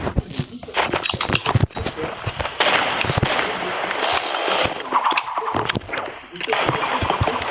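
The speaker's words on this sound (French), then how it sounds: "Attends, je vais balancer une grenade." Video game combat with a thrown grenade going off amid a dense barrage of sharp blasts and gunfire, loud and continuous, with voices talking over the action.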